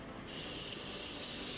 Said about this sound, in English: my favorite setting spray ever